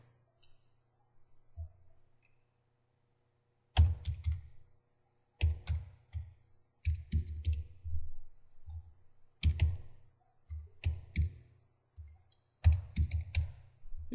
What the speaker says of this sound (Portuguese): Vou digitar uma data aqui.